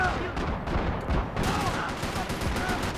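Shotgun fire in Max Payne 3 multiplayer, heard as a dense run of loud, sharp gunshots in quick succession, continuous through the clip with no clear talk.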